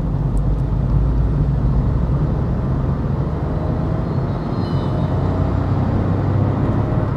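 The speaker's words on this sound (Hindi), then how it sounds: "एक्सेलरेशन मैंने पूरा टैप करा" A 2021 Volkswagen Polo engine pulls hard at full throttle in third gear from about 1200 RPM, a loud, steady in-cabin drone and road rumble holding throughout, with no talking.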